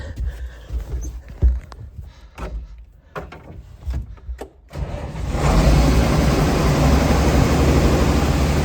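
Clicks and knocks, then a tractor engine, a 1086, cranks and starts at about five seconds in a shed, settling into a loud, steady idle that continues to the end.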